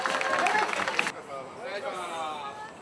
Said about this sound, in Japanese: まず大きな拍手でお送りください